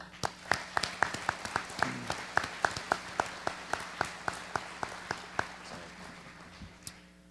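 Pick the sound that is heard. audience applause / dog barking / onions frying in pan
audience applause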